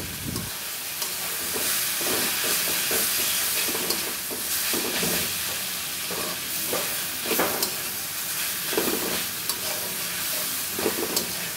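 Gima saag with green chillies fries in a pan, giving a steady loud sizzle and hiss with intermittent stirring scrapes throughout.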